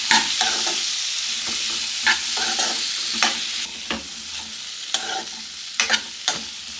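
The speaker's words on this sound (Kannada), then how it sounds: "ಸೊ ಇವೆರಡನ್ನೂ ಕೂಡ ಒಂದು 3 ನಿಮಿಷ ಅಷ್ಟು ಎಣ್ಣೆನಲ್ಲೇ ಫ್ರೈ ಮಾಡ್ಕೋಬೇಕು." Medium-cut capsicum frying in oil in a pan, a steady close sizzle broken by repeated scraping and clacking stirs with a spoon, with no voices.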